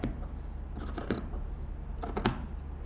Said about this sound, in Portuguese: vem só com a tesoura assim por baixo